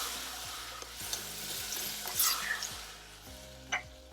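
Chopped tomatoes frying in a pan for aloo baingan, a steady close sizzle with stirring scrapes and a few brief utensil clinks, no voices.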